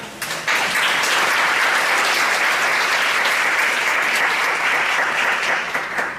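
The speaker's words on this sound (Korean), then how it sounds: "목사님 나오실 때 박수로 같이 환영하겠습니다" Congregation applauding to welcome a pastor at a church worship service, a full dense burst of clapping that starts abruptly and holds steady and loud throughout.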